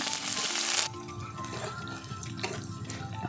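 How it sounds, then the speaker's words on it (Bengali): Chopped chili, whole garlic pieces and a torn bay leaf frying in oil, a loud hiss as they hit the pan that quickly settles into a quieter, steady sizzle with occasional crackles. "লঙ্কা কুচি, টুকরো গোটা রসুন, 1 টুকরো তেজপাতা চিড়ে নিয়েছি। ভালো করে ভেজে নেব।"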